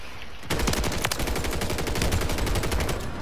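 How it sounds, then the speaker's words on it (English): Video game gunfire in a rooftop firefight: a sustained rapid burst of automatic shots, evenly spaced and loud, running without a break for about three seconds after a short quiet start. "somebody shooting at me"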